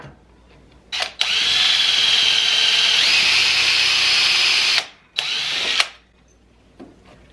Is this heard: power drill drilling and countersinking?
yes